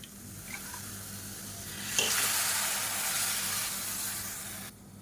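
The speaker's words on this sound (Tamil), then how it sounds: "இப்போ இதில் கொஞ்சமாக தண்ணி சேர்த்துக்கலாம்" Water splashed into a pan of frying curry leaves and green chillies for a soya chunk and egg fry, setting off a sudden loud sizzle that surges at once and then holds as a steady hiss before cutting off.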